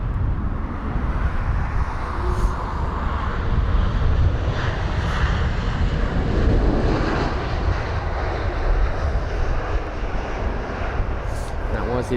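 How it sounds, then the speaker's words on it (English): Jet engines of a Lufthansa Airbus A320neo at London Heathrow airport, a broad steady roar with wind noise, heard continuously at a moderate distance. "Here is the Lufthansa 320 Neo with the old livery this time."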